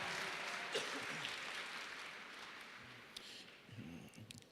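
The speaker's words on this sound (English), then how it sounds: "Give yourselves a round of applause." Faint, steady applause from an audience at a Big Brothers Big Sisters community award event in Dallas, a dense wash of distant clapping that lasts the whole stretch and thins slightly toward the end.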